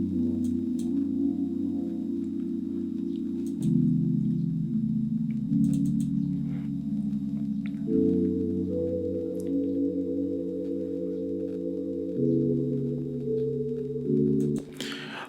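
Nexus single-layer sine pad #1 preset in FL Studio for private school amapiano, sidechained, playing sustained soft chords that shift every couple of seconds, a warm steady pad alone with no voices.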